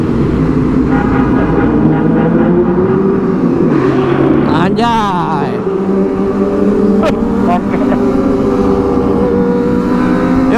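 A Kawasaki ZX25R four-cylinder motorcycle revs hard in a tunnel on a night ride, its high-pitched engine note climbing and echoing loudly, with riders talking and a short exclamation over it.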